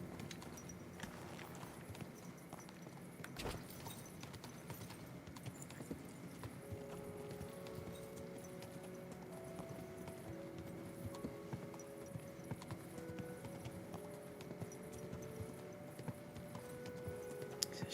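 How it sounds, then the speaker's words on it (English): Horse hooves clip-clop steadily and evenly in Kingdom Come: Deliverance 2, a faint rhythmic trot over quiet game ambience with soft music. "Let's get on the horse."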